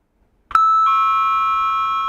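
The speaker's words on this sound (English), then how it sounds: "Ding dong." A doorbell gives a clear two-tone ding-dong after a brief silence, the second tone ringing out and slowly fading, close and loud.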